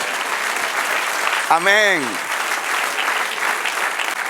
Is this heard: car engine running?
no